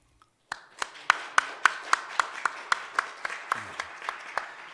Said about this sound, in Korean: 여러분들 큰 박수로 격려해 주시면 좋겠습니다